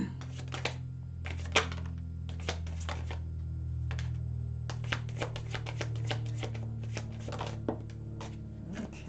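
Tarot cards are drawn from a deck and laid out on a table in a string of crisp snaps and light slaps, irregular and close, with a few sharper hits standing out over a low steady hum.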